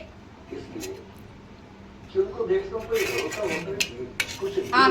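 A little girl playing with a spoon, tapping and scraping it against dishes in scattered light clinks, heard close by under ongoing speech.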